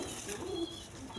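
Rajgolla pigeons, a red-coloured pair, give low cooing calls, a soft, steady burble running through the short stretch with a slightly stronger coo near the middle.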